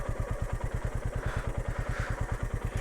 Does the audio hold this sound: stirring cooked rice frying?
no